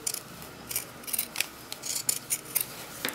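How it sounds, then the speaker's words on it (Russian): Zigzag pinking scissors snip through fabric while a Tilda-style sheep toy is cut out. About a dozen crisp, close cutting crunches come in an irregular rhythm over a quiet background, with no voices. "Ножницы зигзаг дают малоосыпаемый срез, что очень удобно в работе."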